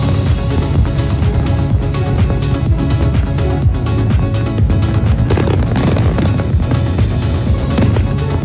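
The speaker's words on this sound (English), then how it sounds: "You got fireworks up near the backyard." Fireworks burst outdoors near a backyard on New Year's Eve, a dense, continuous barrage of booms and crackles that stays loud throughout.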